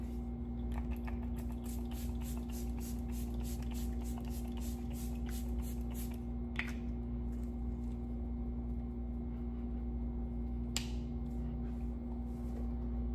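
MAC Fix+ Stay All Over setting spray misted from its pump bottle: a quick series of soft, close sprays, then two separate single spritzes, heard in a quiet room over a steady low hum.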